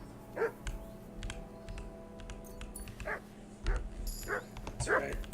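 A dog in the medieval video game Kingdom Come: Deliverance 2 gives several short yips and whimpers over a low ambient game hum, spaced through the scene with someone talking between them.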